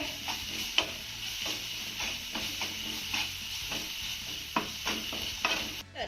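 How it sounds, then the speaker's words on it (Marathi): Ground spices with chili, turmeric and salt are stir-fried in a pan. They give a quiet, close sizzle with repeated scraping stirs and a few sharper clinks along the way. "आता हे सगळे मसाले आपल्याला एक मिनिटभर चांगले परतून घ्यायचे"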